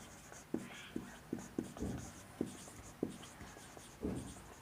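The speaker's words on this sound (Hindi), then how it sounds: "यहीं लिख लेते हैं इसी जगह कोने में" A marker writes on a board in a class 6 maths lesson, making repeated short taps and strokes at a steady irregular pace. The sound is close and moderate over low room noise, with no speech.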